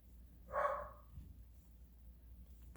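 A single short dog bark, fairly close, followed by quiet room noise with a low background rumble.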